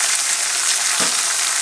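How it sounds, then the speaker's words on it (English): A cracked egg fries in a pan alongside sausage, a steady close crackling sizzle throughout with one soft knock partway. "we're going to crack an egg right in here"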